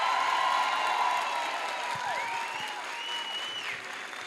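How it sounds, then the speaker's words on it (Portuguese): An audience at the Venha Conosco 2023 symposium on early childhood gives a steady round of applause, with a few thin whistles rising over the clapping as it gradually eases. "por favor, uma salva de palmas para ele"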